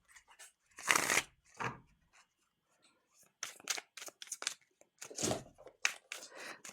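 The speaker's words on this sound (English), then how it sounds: "This deck is new, slippery, and the cards are so nice and soft." A brand-new, slippery deck of soft playing cards is shuffled close up, giving bursts of riffling and fluttering card noise with short pauses between passes. Quiet handling sounds fill the gaps.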